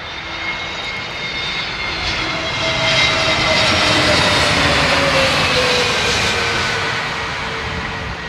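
A Boeing 757 jet airliner arriving at London Heathrow, its engine roar loud and close, swelling steadily to a peak midway and easing slightly with a whining tone sliding downward, no talk over it.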